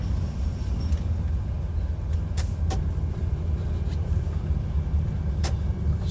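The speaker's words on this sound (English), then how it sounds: "There is a car coming towards us now." An oncoming car approaches and passes a truck on a tight rural B road near Dumfries, Scotland, under the truck's steady low engine rumble, with a few brief sharp knocks and clicks in the cab.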